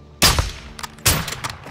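Two sharp gunshot blasts from Call of Duty Modern Warfare 2, spaced under a second apart, each loud and close with a ringing tail and small echoing cracks after, with no talk over them.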